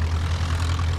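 A Blenheim aircraft flies past at an evening air display, its engine producing a steady low droning hum, moderately loud and unbroken, with no voices.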